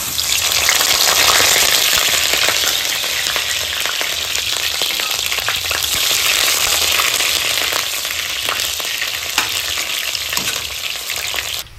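Onions frying in oil in a pot for a homemade Bangladeshi biryani, a steady dense sizzle that stays loud and even throughout with faint stirring, and no talk.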